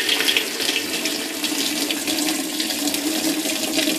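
A washing machine fills with water for a large load of new fleece, a steady loud rushing stream like a running tap that holds constant throughout without pause.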